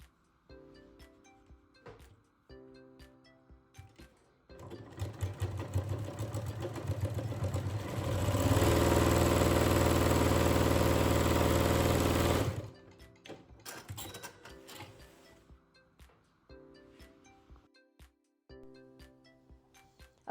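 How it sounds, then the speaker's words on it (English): A sewing machine stitches fabric for a tablet pouch, starting with short backstitch bursts, then a long, loud, fast continuous run, then more short stop-start stitching, all close and without talk. "So I'm gonna go to my sewing machine, making sure that I back stitch."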